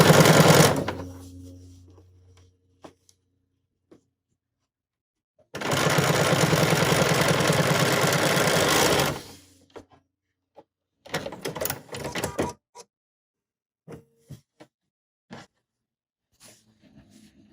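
BERNINA sewing machine with an edgestitch foot stitching a binding, a steady mechanical whirring run of about four seconds, close and alone, followed by scattered clicks and shorter stitching bursts.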